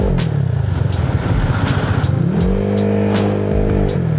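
A tuned Honda Click 175cc scooter engine runs while riding, its close, loud motor note rising and falling with throttle changes and a clattering rhythm underneath, with no talking.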